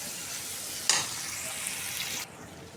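Fish fries in a pan with a loud, hissing sizzle that flares sharply partway through, holds, then drops off abruptly near the end.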